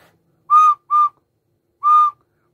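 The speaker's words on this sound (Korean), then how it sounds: "콧구멍으로 불어도 소리가 나는 악기예요." A recorder blown through the nose gives three clear, soft-edged notes at the same pitch, two short ones close together and a longer one after a pause, alone in a quiet room.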